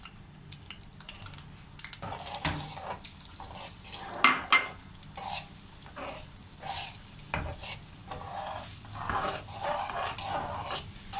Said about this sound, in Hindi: सूजी को हम तब तक भूनेंगे जब वो हल्की खुशबू देने लगे और हल्की सी ब्राउन हो जाए